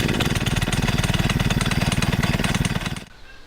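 Engine of a PCW 5000 portable forestry capstan winch running at a loud, steady, fast-pulsing idle close by, then cutting out abruptly near the end and leaving a quiet tail.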